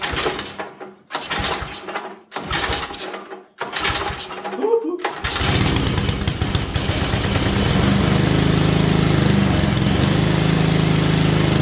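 A 1970s Dynamark snowblower engine, choked and throttled, cranks over in several short pulled bursts separated by pauses, then catches and runs with a loud, steady, close rattling drone.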